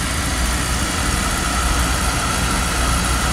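A Beckett oil burner motor runs at a steady, loud drone with a constant low hum and vibration, unbroken throughout.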